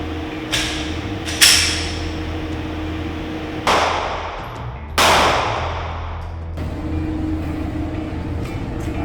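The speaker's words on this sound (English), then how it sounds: "we're going to shoot 2 rounds with 40 caliber duty weapon" A .40 caliber police duty pistol is fired into an armored backpack, giving a few sharp, loud bangs spaced seconds apart, each followed by a short ringing decay over a low steady hum.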